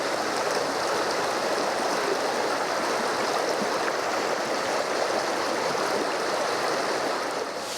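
Clear, cold mountain river water flows through a valley floor in Sicily, a steady, dense rushing and gurgling that stays constant and close throughout, with no voices.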